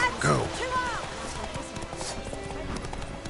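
Horse hooves galloping in The Witcher video game, a rapid close clip-clop under a whinny-like cry and a person talking.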